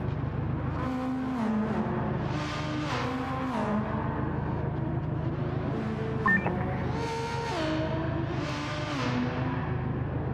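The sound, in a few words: race car engines in video game Gran Turismo 7 at Spa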